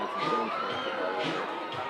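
Large crowd in the stands at a high school football game, a dense steady roar of voices with some cheering and shouts, filling the space continuously.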